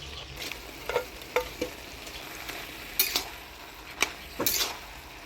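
Fried rohu fish heads go into a pot of cooking bottle gourd: a quiet, continuous pan sizzle broken by a handful of sharp metallic clinks and scrapes of a spoon against the pot.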